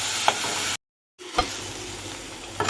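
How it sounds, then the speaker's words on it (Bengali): Fish frying in a pan with a steady sizzle, stirred with a few scraping knocks, broken by a short silent gap before the sizzling and stirring resume. "এবার দিয়ে দেবো মাছটা দিয়ে একটু ভালো করে ওর সঙ্গে মিশিয়ে ভেজে নেব"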